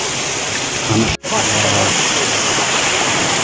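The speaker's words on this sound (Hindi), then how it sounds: "यहाँ से पानी बह रहा है" Mountain stream water rushing steadily near a Himalayan temple trail, a constant broadband roar filling the clip with one brief dropout and a short spoken word over it.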